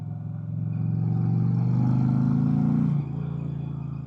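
A 2025 Indian Challenger Elite motorcycle pulling hard in third gear around 40, its engine note climbing in a loud, steady rising drone for about three seconds, then dropping back to a lower even hum as the throttle eases.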